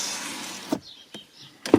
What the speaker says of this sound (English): drop the driver's window